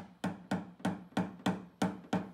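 A PDR hammer taps down a dent on a Tesla Model 3 panel outdoors, striking seven times in a quick, even rhythm, each tap a crisp close knock with a short ring.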